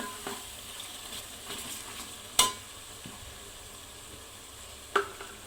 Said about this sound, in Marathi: ह्याला असं परतून घेते छान असं